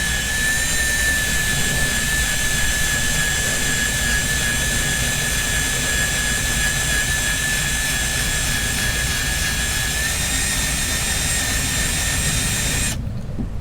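A polisher buffing silicone RTV off car paint, running as a loud, steady high-pitched whine with a constant drone for over twelve seconds, close up, then cutting off abruptly at the end, with no talking.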